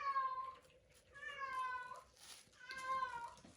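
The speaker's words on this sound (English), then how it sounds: "now my cat would decide this is the time that he would like to come and show us" A pet cat meows three times indoors, each call drawn out and rising then falling, fairly quiet and near with short pauses between and no talk.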